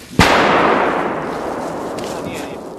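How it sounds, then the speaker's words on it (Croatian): A single sharp blast erupts near the start and rolls off into a long, slowly fading rumble, heard outdoors at a wartime front line during preparations for an attack on Ćeralije near Slatina. "Čujem da se čuje eksplozija."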